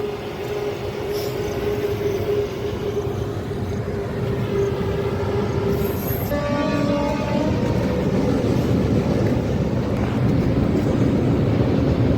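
A train passes beneath a railway bridge near a village, a steady loud rumble of wheels and carriages filling the whole stretch, with a brief tonal horn-like sound partway through and no talking.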